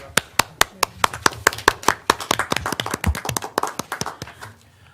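Small group of people clapping in a city arts and cultures commission meeting room, a brisk run of sharp close handclaps that thin out and stop near the end, with a faint voice underneath.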